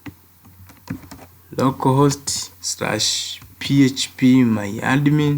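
Keys clack on a computer keyboard as a PHP and MySQL address is entered in a browser, with short light taps mostly under a person's steady talk.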